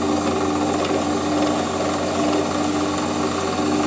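Metal lathe running while parting off a workpiece in a home shed, a dense continuous whirring and grinding drone with steady motor hum, loud and close for the whole stretch.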